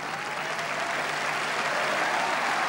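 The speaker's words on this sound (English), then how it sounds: "And the crowd appreciating just the sheer effort that these two, particularly Monfils, though, are putting into these early salvos." At a tennis match between Nadal and Monfils at the 2012 ATP Qatar Open, the crowd claps in steady, dense applause after a long rally, sustained and loud throughout.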